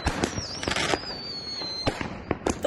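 Professional fireworks show at Medical Lake on the 4th of July, with sharp booming bursts and crackling pops spaced irregularly over a steady hiss, one whistling rise trailing between them, moderately distant and loud.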